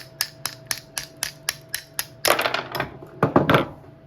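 Steady hammer blows drive the piston pin out of a KX80 two-stroke dirt bike engine during top-end disassembly, a regular series of sharp metallic taps followed by a louder, busier burst of clattering strikes, close and with no talk.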